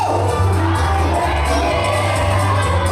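A large crowd at an 85th birthday party shouts and cheers continuously, with high children's voices and whoops rising over a dense, steady roar.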